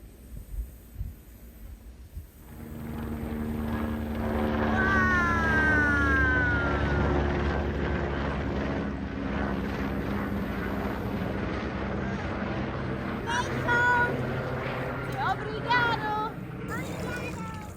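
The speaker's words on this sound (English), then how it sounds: "That's the helicopter going home by the looks of things." A helicopter flying away over a homestead in Portugal drones in a steady, low hum that holds for a long stretch, with other faint sounds briefly rising over it.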